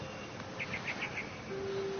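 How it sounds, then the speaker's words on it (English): A barn swallow in the video game What Remains of Edith Finch chirps in a quick series of about five short, bright calls over a steady ambient hum, followed by a sustained whistle-like tone. "Then I heard chirping outside my window."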